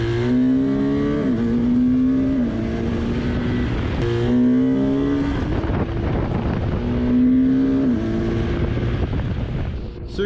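A BMW R1250GS motorcycle's boxer engine revs repeatedly, rising and falling in pitch in rhythmic surges with a gruff exhaust tone, close and loud with no talk.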